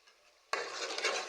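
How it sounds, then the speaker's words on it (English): Quiet for half a second, then a sudden broad hissing crackle of jollof ingredients frying in a pot starts and keeps going steadily, close and fairly loud. "It's already frying."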